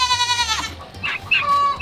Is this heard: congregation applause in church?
no